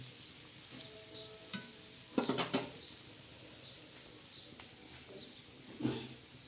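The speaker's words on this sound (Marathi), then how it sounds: "असे अशा प्रकारे आपण हलवून घ्यायची बुर्जी" Egg bhurji sizzles softly in a pan as it is stirred, with a few sharper scrapes and taps of the spoon against the metal over a low, steady frying hiss.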